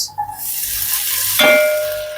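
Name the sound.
sautéing corn in hot oil in pot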